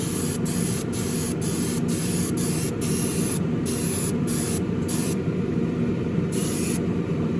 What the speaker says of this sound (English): this lacquer likes to be sprayed on wet